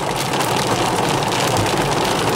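Rain mixed with hail drums on the roof of a parked car, a dense, steady patter heard from inside the vehicle, with no voices.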